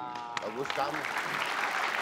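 A studio audience applauds a singer on an Indonesian TV talk show, a steady wash of clapping under a brief spoken remark.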